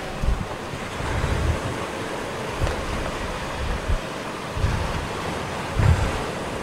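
Sea waves played as a sound effect during a stage play, a continuous rushing surf with gusty wind, swelling in soft recurring surges at a moderate, even level with no voices.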